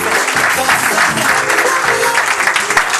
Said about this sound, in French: Merci de les applaudir, s'il vous plaît.